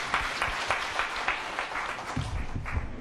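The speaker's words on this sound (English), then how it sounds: "Yes, give her another round of applause." Steady applause from an audience for a speaker at a land debate, a dense continuous clapping wash heard from some distance, with faint low thumps near the end.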